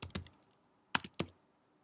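Typing on a computer keyboard in a quiet room: two short bursts of a few crisp key clicks each, separated by a pause, close and fairly soft.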